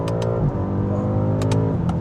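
BMW M5 Competition F90 (Stage 1.5+ tune, 764 hp) revving hard on a dyno, a loud, sustained high-revving engine roar with rising harmonics and sharp bursts near the start and end.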